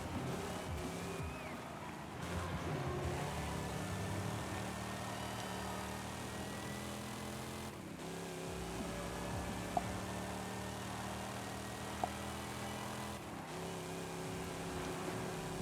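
An Oldsmobile Toronado racing in Forza Horizon 5, its engine holding a steady, continuous drone at sustained throttle with gradual pitch shifts through turns and gear changes.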